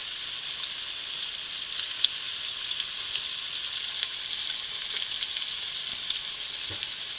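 Butter sizzles and fries steadily in a hot pan with filet medallions, a continuous close hiss with small crackles and an occasional light clink of tongs, no voices.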